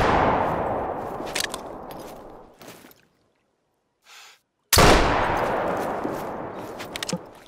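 A rifle shot rings out while hunting bison in The Hunter: Call of the Wild, a loud close blast with a long decaying tail, followed after a brief silence by a second equally loud shot that rumbles on.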